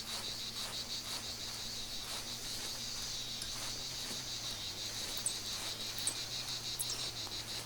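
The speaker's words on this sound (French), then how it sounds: "Et les cigales qui chantent." Cicadas in an Australian setting of the hunting game theHunter sing in a dense, unbroken high-pitched drone that stays steady and fairly loud throughout, with no talking.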